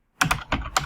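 Typing on a computer keyboard, close and crisp: four distinct key clacks in under a second at an uneven rhythm, with no voice.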